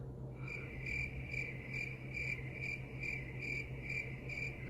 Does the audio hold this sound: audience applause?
no